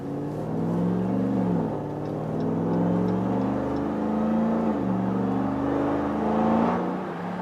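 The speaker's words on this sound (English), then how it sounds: "I can hear the supercharger whine" A RAM TRX truck engine with a muffler delete and SLP resonators rumbles and revs steadily up and down, its deep exhaust note layered with a high supercharger whine, loud and close throughout.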